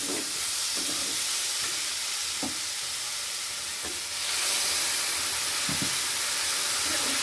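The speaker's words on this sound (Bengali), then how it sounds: "এবার ভালো করে কষিয়ে নেব" Spice paste with ground turmeric, cumin and coriander and puréed tomato is being sautéed in a pan for Bengali dhokar dalna. A steady close sizzle hisses throughout, with soft scraping strokes of stirring and a louder surge of frying near the middle.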